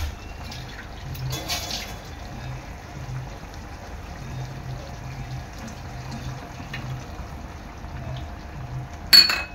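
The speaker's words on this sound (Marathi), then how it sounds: "थोडंसं पाणी टाकायचं आहे." Water splashes steadily into a pot of crab curry (chimbori amti), a low, continuous pour with a brief louder splash near the end.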